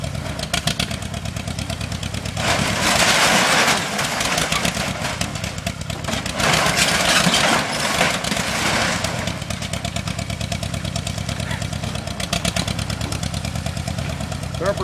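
Farmall 400 tractor engine at full throttle in fifth gear while pushing over a trailer, a loud, continuous rapid clattering roar that swells and dips slightly throughout.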